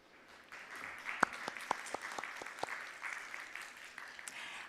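Audience applause greets a conference moderator, a modest crowd clapping with a few sharp individual claps standing out at the start before settling into steady, moderately faint clapping.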